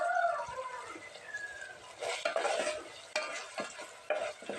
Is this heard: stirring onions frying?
yes